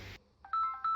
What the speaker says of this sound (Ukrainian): Кохана, телефон дзвонить.